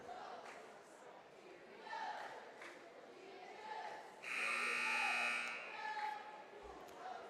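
A loud, harsh electronic buzzer blares for about a second at a varsity boys basketball game, over a noisy indoor crowd and scattered voices, with squeaks and cheers around it.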